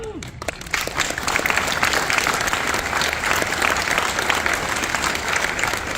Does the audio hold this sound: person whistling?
no